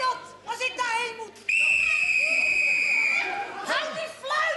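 A whistle is blown in one long, steady shrill tone lasting almost two seconds, surrounded by lively chatter and shorter whistled notes.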